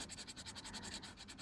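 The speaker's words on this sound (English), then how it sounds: "So I'm going to go in and see if I can just erase." Eraser rubbed back and forth over pencil marks on watercolor paper, a fast even scratchy rasp repeating about ten times a second, close but quiet.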